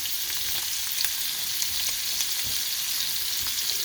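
Scallops searing on full heat in garlic brandy butter, a dense, loud, continuous frying hiss with tiny spitting pops, close and unbroken, no voices.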